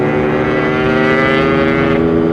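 A Yamaha RX-King motorcycle with a standard exhaust runs loud and close with a deep, even exhaust note, the revs rising slightly toward the end.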